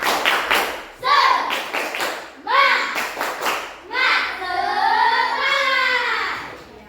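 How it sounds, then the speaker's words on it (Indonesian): Schoolchildren in a fourth-grade classroom do a rhythmic spirit clap, with bursts of claps and taps between chanted group voices, close and loud, ending in a sustained shouted chant. "1, 2, 3. Tepuk semangat!"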